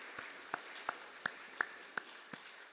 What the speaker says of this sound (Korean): 은혜 주실 우리 하나님께 박수로 감사하겠습니다.